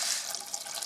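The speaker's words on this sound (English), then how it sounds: "Then add some hot water so that the artichokes are covered up to the top of the stem." Hot water poured into a pan of artichokes for Roman-style carciofi, a brief close splash and trickle of running liquid with no talk.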